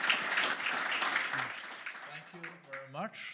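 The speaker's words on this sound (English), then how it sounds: "I think the panel deserves a big applause." An audience at a World Economic Forum panel session on resilience breaks into applause, clapping steadily for a couple of seconds before it fades as voices start talking.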